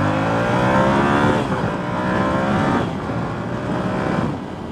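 A 2022–2023 Yamaha YZF R7 motorcycle pulls hard in first gear on a test ride, its engine note climbing steadily in pitch, loud and close, with a brief dip and renewed rise as the revs build.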